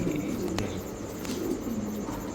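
Spanish pouter pigeons coo softly and fairly faintly in a pigeon-keeping setting, low repeated calls with no talking.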